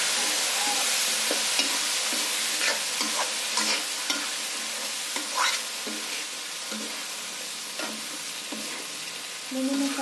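Vegetables with coriander and spices frying in a pan, a steady bright sizzle broken by repeated scraping and clacking strokes of a spoon as they are stirred, close and without talk.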